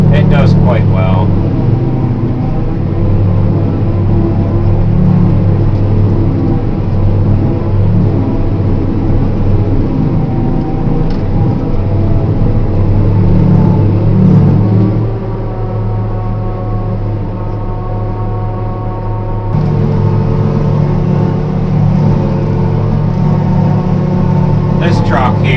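A silage truck with a lift axle and Chalmers suspension sits with its diesel engine running, a steady low droning rumble that holds for the whole stretch and dips briefly midway, loud and close.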